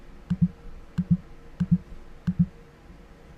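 Computer mouse clicks, made while working with a clone stamp tool for airbrush-style retouching, come in four evenly spaced quick double clicks, close and fairly quiet over a faint hum.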